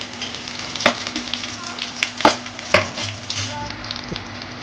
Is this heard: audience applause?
no